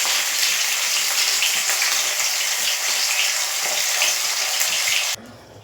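Fish frying in hot oil for a taro and fish dish makes a loud, dense, continuous hiss that cuts off abruptly near the end, close by and without speech.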